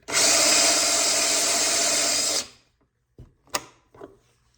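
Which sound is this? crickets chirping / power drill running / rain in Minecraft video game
power drill running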